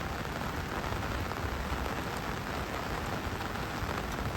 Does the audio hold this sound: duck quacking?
no